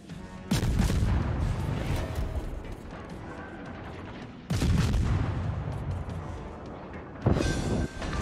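Warship guns boom in World of Warships. Three heavy salvos land about four seconds apart, each a loud close blast that trails into a rumbling decay.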